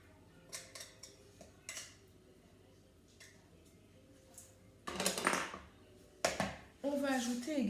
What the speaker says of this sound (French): On va bien sûr tout mélanger.